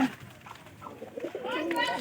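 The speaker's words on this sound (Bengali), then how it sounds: "এই একটা কবুতর আর আরেকটা কবুতর" Domestic pigeons kept in a tin-roofed house coo softly in short, low throaty phrases that swell near the end, with a person talking over them close by.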